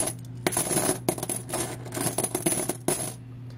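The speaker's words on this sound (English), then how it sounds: "And here are silver quarters." Silver U.S. quarters jingle and clink repeatedly as they're shuffled together, a close, bright rattling with sharp chinks scattered over a few seconds.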